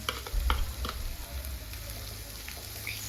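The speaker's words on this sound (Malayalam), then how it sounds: "വെളിച്ചെണ്ണ ഒന്ന് ചൂടായി വരുമ്പോൾ അരിഞ്ഞു വെച്ച രണ്ട് സവാള ഇട്ട് കൊടുക്കുക എന്നിട്ട് ഇത് നല്ലോണം ഒന്ന് ഇളക്കി കൊടുക്കാം" Sliced onions hitting hot coconut oil in a pan, giving a soft steady sizzle with a few scraping stirs of a spoon near the start, fairly quiet and without speech.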